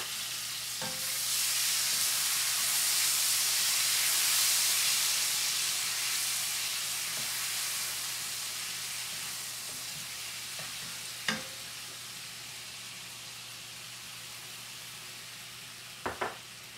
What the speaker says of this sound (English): Now I can put some soy sauce.